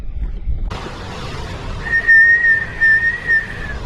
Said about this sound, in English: I think I can hear the whistling rock though.